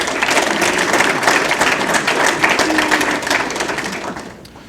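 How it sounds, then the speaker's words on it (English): An audience at a men's soccer awards reception gives a round of applause, steady and fairly loud clapping that gradually fades out. "And one more round of applause for our COSIDA Capital One Academic All-District team."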